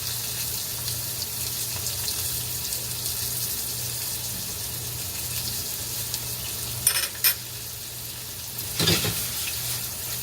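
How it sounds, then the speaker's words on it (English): Mirepoix sizzles in a pan as beef broth is poured in for short rib cooking, with a steady low hiss and a couple of brief splashing bursts. "I'm going to add a little bit of our beef broth here, right about now."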